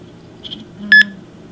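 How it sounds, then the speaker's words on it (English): A short electronic beep from a Libib cataloging app when an item is scanned, preceded by a fainter double tone over a low background hum. "When you scan it, it'll beep"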